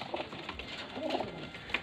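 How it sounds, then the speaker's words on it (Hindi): Pigeons for sale in Faisalabad coo softly and close by, a few low murmuring calls repeating over a quiet background. "सारे माशाल्लाह आउट क्लास के कबूतर हैं यार"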